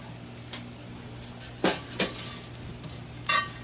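A cast-iron Dutch oven lid is set in place outdoors with a Campmaid lid lifter, making several sharp metallic clinks and clanks spaced over a few seconds against a quiet background.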